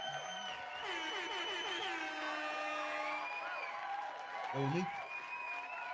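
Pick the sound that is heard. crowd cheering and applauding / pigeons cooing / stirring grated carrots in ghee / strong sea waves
crowd cheering and applauding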